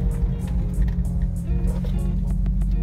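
A Jeep Wrangler TJ on 35-inch tires brakes hard while rolling downhill at about 20 mph, heard from inside as a steady loud low drivetrain and road rumble without a distinct screech, no talking.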